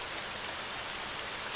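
Rain falls in the military video game ARMA 3, a soft, steady hiss of dense drops with no pauses or voices.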